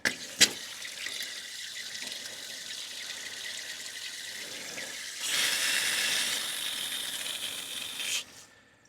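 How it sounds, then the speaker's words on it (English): Water runs from a tap while air is purged from a home hot water system. A steady hissing flow carries on alone, then swells louder and rougher for a few seconds before cutting off abruptly. "Let's get all the air out of the system."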